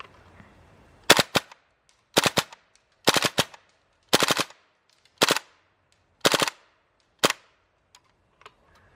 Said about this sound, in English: so let's see if it's controllable in full auto.